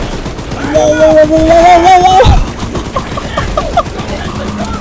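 Gunfire erupts in the horror video game Choo Choo Charles, with rapid bursts and a rising mechanical whine, and a voice exclaims over the shooting.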